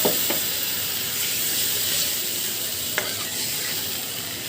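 A spice paste of chili and cumin paste with a little water fries in a pan, giving a continuous close sizzling hiss with a couple of sharp stirring clicks.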